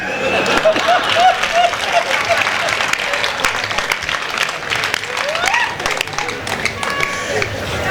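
Applause from an audience at a Hindi poetry recital (kavi sammelan), a steady burst of clapping with some cheering throughout, mixed with voices speaking.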